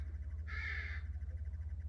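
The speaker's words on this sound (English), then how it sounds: "You hear the crows confirming?" A single crow caws once in a brief, bright call against a steady low hum, with no voices.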